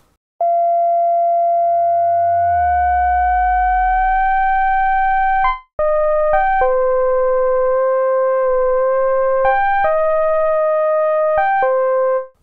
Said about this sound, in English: this is modulating oscillator 1 with oscillator 2